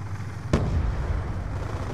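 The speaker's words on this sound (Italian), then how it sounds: "sento solo delle grandi esplosioni e basta" A single big explosion in a Call of Duty multiplayer match, one sharp close blast followed by a rumbling low tail over steady background noise.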